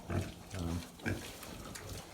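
Young boars grunt and squeal on a farm in three loud bursts, close by with softer snuffling between them.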